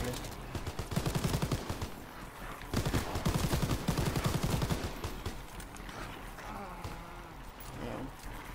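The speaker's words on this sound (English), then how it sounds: "I hate this starting pistol." Starting pistol gunfire in Call of Duty WWII Zombies, rapid shots in clustered bursts mixed with other game gunfire while players talk over it.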